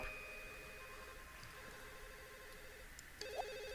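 A telephone rings in The Sims 1 with a repeating warbling electronic trill in short bursts, faint against a quiet background hiss.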